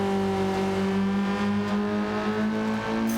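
A Gran Turismo 7 race car engine holds a steady, loud tonal drone, then shifts pitch near the end as it drops a gear while braking into the final corner.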